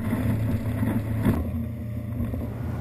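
A ZAR Formenti 57 Welldeck boat's engine accelerating on open water, a steady low motor drone with wind and water rushing around it, continuous and close.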